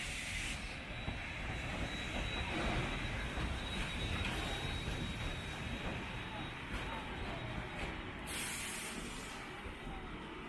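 The Cockle Train heritage railway near Victor Harbor, South Australia, rumbles along in a continuous low roar with hissing and a faint steady whine, heard from on board, fairly quiet and unbroken throughout.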